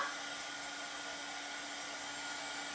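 A hair dryer blows steadily on a zip code pillow craft project, a continuous airy whir with a faint tonal hum, close and alone without any talking.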